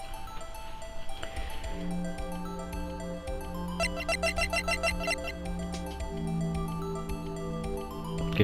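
A phone ringtone in the Phoenix Wright: Ace Attorney video game, a repeating chirpy electronic ring over game music.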